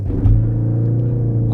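Ford Focus ST Edition launching hard from a standstill, a steady low engine roar with a brief surge early on, loud and close from inside the cabin.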